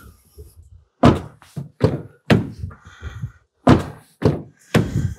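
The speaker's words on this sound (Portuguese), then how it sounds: "E a batidinha da porta também, ó." A door on a Foton Tunland V7 hybrid pickup truck is shut several times, each close a solid, loud thunk heard up close, in a steady series with short pauses between and no talk over it.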